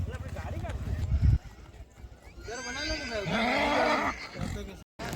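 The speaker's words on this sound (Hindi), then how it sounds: "सूरत से घोड़ा है दोस्तों, गाजी घोड़ा, कठोर" A racehorse named Ghazi from Surat whinnies at a horse race, a strong neigh in the middle under someone talking loudly, with clip-clop and crowd noise around it.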